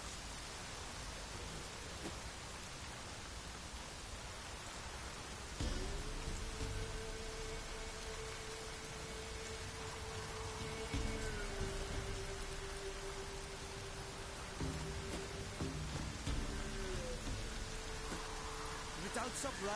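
Continuous rain pours in The Witcher 3, a dense steady wash with a low tonal hum entering partway and a few louder swells and distant rumbles.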